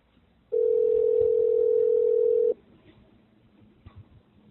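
A steady telephone dial tone after a call is hung up, a single loud unbroken tone lasting about two seconds and then cut off, over faint background noise.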